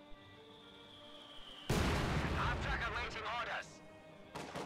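Mortar and artillery fire in the Company of Heroes 2 strategy game: after a quiet stretch, a heavy explosive boom erupts and rumbles for about two seconds, followed by a shorter blast, with a voice talking nearby.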